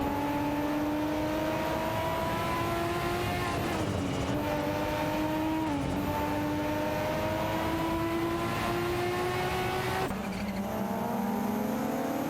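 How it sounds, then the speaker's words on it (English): Racing video game cars, a Ford Sierra RS 500 and a Ford Escort RS Cosworth, drone loudly and continuously. The engine pitch climbs steadily, dips briefly at gear changes and drops sharply near the end. "Isiona 1212 are neck and neck with Arafeld, showcasing their skills in a Ford Sierra RS 500 and Ford Escort RS Cosworth respectively."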